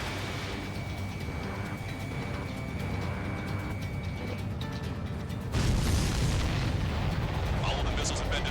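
Missiles exploding in the flight combat game Ace Combat 7, with continuous rumbling engine and battle noise that surges into a heavier roar of blasts partway through, under radio voices.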